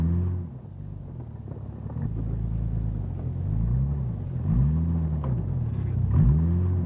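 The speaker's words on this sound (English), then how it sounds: "by carefully shifting your transmission from forward to reverse, you can rock your vehicle forward and backward a couple of times to build a little runway" A 1988 Jeep in four-wheel drive low rocks forward and backward, its engine rumbling close with repeated rising and falling revs as it shifts between directions.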